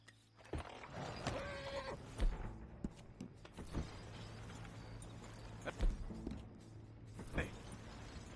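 Horses clip-clop and shift in Red Dead Redemption 2 as a gang sets out at night, soft hoof thuds and tack rattles scattered over a low ambient rumble, with a few louder knocks between quieter stretches.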